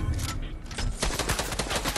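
Rapid gunfire in the video game Fortnite, a dense burst of repeated shots crackling for about two seconds with no talk.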